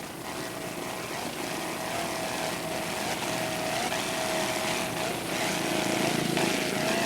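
Offshore racing powerboat engines at a 2001 world championship race off Key West, a loud, sustained roaring drone with slight pitch shifts as the throttle varies, steady and continuous without talk.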